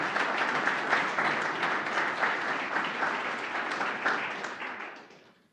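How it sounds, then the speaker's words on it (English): Indoor audience applause for the panelists at a Duke startup showcase evening, steady dense clapping sustained for several seconds before tapering off at the end. "So, a round of applause for our panelists for coming tonight."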